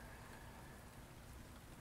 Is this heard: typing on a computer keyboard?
no